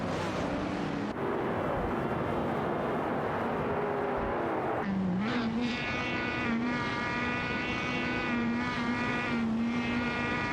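Race cars, a Shelby GT350 and a 1973 Holden Monaro, roar continuously in a racing video game, their engine whine holding steady and then shifting in pitch as gears change, loud and close throughout.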